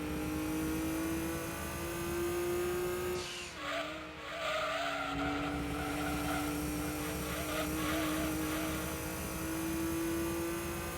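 A race car engine from the video game Gran Turismo 2 drones steadily at high revs, loud and continuous, with a brief dip around a gear change and a hint of tire noise.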